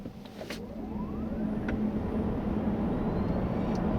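A 2016 Chevrolet Volt accelerates at full throttle on electric power, a quiet, smooth, steady hum with a faint rising whine over road and tire noise, building slightly and then holding level.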